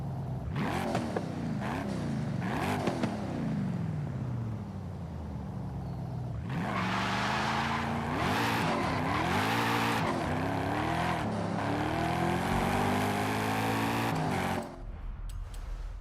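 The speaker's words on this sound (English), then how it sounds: "This sounds like a real Coyote." A Ford Coyote V8 in Forza Horizon 5, an A-class car making 711 horsepower on stock compound tires, revs and accelerates loudly and continuously, its pitch rising and falling through gear changes, with tire squeal and skidding, then cutting off near the end.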